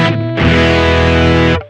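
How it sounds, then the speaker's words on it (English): A Boss GP-10 guitar synth plays a sustained polyphonic distortion tone alone, amp off, a loud buzzing chord that rings for over a second after a brief lower note, then cuts off. "the only thing that we're listening to right now is just the polyphonic distortion"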